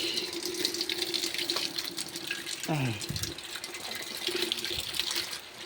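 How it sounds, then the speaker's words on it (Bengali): Water runs steadily from a tap during rain, a constant close gush with splashing, and a brief voice and a few knocks partway through. "ট্যাপটা ছাড়ে দে।"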